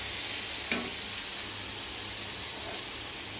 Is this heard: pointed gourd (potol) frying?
yes